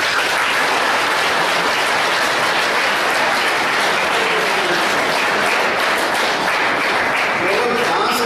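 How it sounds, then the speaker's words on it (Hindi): An audience at an eye care talk claps loudly, making a dense, continuous wash of applause that stays at full strength for the whole stretch. "इसलिए क्यों ना एक बार ताली बजाए जोर से।"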